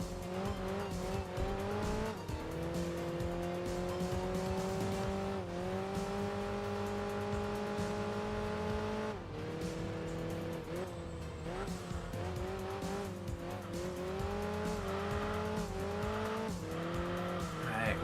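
An underpowered race car accelerating hard in Enthusia Professional Racing, the engine note climbing repeatedly through the gears with brief drops at each shift and tire squeal over a steady lap-long drone.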